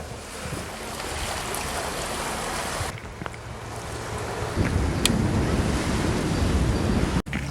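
Sea waves at the shore of a Tongyeong island at low tide, a steady rushing wash with wind buffeting the microphone, loud and continuous, swelling stronger toward the end with no talk.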